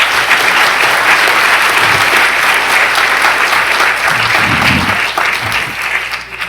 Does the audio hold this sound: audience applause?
yes